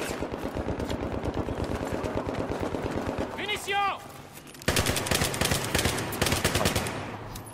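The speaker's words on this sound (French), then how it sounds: "On me tire dessus, Akra." Gunfire in the video game Aftermath, with rapid automatic bursts and sharp shots crackling loudly, broken by a short lull, while players talk over it.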